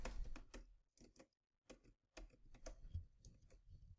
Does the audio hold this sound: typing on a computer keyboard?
yes